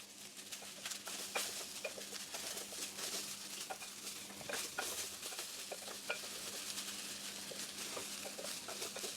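Cabbage, pumpkin and pak choy being stir-fried with rice grains in oil, a soft steady sizzle with scattered light clicks and scrapes of stirring, fairly quiet throughout.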